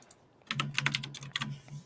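Quick bursts of clicky computer keyboard typing close to a microphone, soft and rapid keystrokes over quiet room tone for under two seconds.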